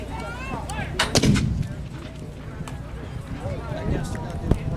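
One loud, booming mortar cannon blast early on at a Gettysburg reenactment demonstration, followed by a rolling echo, with people talking before and after.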